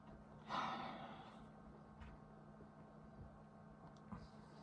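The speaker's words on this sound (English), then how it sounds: "Let's give it a sniff." A single sharp sniff of an IPA beer near the start, followed by quieter breathing and faint background hum.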